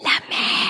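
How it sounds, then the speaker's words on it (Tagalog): A short, high-pitched dog whimper, two quick whiny cries close by, with a brief spoken exclamation. "Pasensya na kayo sa aso namin."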